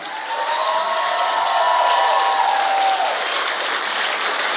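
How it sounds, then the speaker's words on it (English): A standing audience applauds to welcome a married couple onto the stage, producing dense, sustained clapping that fills the room from start to finish with faint crowd murmur beneath. "come on and stand to your feet, and let's clap it up"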